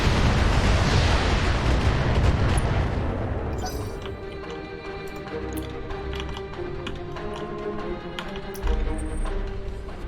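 Mech weapons fire in a BattleTech battle, a dense rumbling barrage of booms and impacts that starts loud and thick, then thins into scattered sharp hits and crackles over a sustained low roar.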